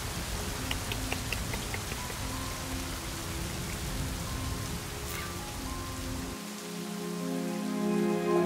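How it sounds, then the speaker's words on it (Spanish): Rain at Punta San Carlos patters steadily with scattered drops tapping nearby surfaces, a soft continuous hiss underneath and no voices. "Y la lluvia que no para."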